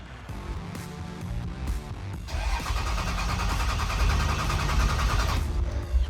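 A Cummins diesel engine with freshly installed VP44 injection cranks over, the starter whirring loudly and steadily for several seconds with rough mechanical chatter, close by.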